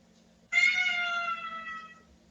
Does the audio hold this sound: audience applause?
no